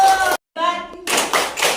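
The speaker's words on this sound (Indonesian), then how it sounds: "Terima kasih, tepuk tangan dulu Bu." Hands clap during a kindergarten monitoring visit in short bursts split by a brief pause, with voices speaking between and over the clapping.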